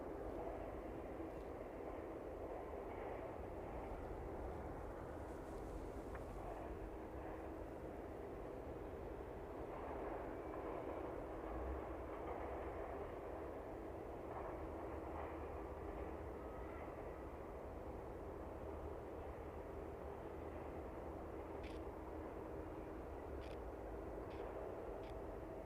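A continuous broad roar of aircraft engines at an airport, carried across an open field, with a cargo plane on the taxiway; it stays steady throughout with faint ticks near the end.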